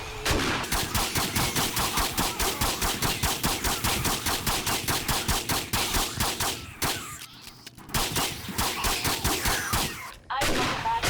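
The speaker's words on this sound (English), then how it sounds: "I think we'll just shotgun this one." Rapid, evenly spaced gunshots from a shotgun in the video game 7 Days To Die, firing loud and near in a long, steady string with a couple of brief breaks.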